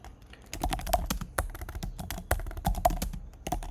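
Quick, irregular keystrokes on a computer keyboard while code is typed, close and crisp, with short pauses between bursts and no talking.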